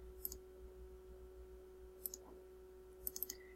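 Computer mouse clicks on an office calendar program, a few sharp isolated clicks near the start and in a quick cluster of three or four toward the end, over a steady electrical hum.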